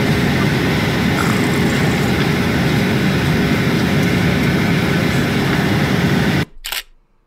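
Steady, loud broadband roar of an airplane cabin during flight, a constant low engine and airflow rumble that holds unchanged for several seconds before it cuts off abruptly near the end.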